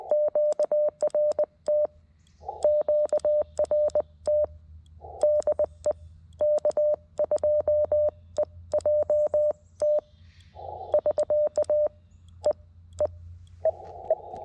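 Morse code tones over a radio, a steady pitched beeping of short and long pulses in rapid groups, with faint static hiss underneath.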